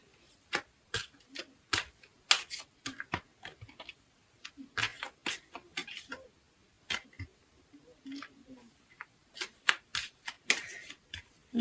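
Tarot cards are shuffled in a quiet room during a love reading, a long run of crisp riffling snaps and flicks in irregular bursts, close and fairly faint, with no talking.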